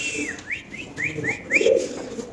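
Damascene pigeons at a pigeon farm give a run of short, close whistling calls and soft coos, several quick notes in succession followed by a louder low coo near the end.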